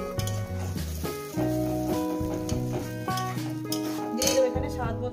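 Spice paste for tengra fish curry is stirred and sautéed in a pan, with a spoon clinking and scraping against metal under a sustained tonal background.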